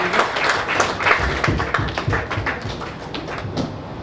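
An audience claps at a Kannada film event for the Gowri movie song launch, a dense crowd patter of many hands, loud and close, slowly thinning toward the end.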